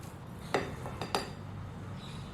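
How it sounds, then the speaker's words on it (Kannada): A masher knocks against a bowl of boiled potatoes in a couple of sharp metallic clinks, with soft scraping between them, close and fairly quiet. "ಇದು ಗಂಟಿಲ್ದಿರೋ ಥರ ನೈಸಾಗಿ ಇದನ್ನು ಸ್ಮ್ಯಾಶ್ ಮಾಡ್ಕೋಬೇಕು"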